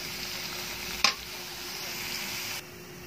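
Eggplant for adobong talong drops into a hot pan with a brief sharp hiss, then settles into a steady, soft sizzle of frying that drops quieter near the end.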